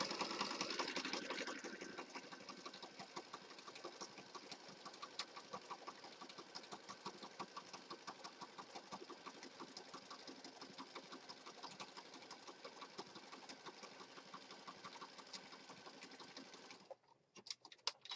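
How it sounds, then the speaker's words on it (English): A sewing machine stitches down the side of a junk journal page with a steady, fast mechanical whir and rapid needle chatter that runs continuously, close by, before cutting off near the end. "I'm going to go ahead and stitch down this side"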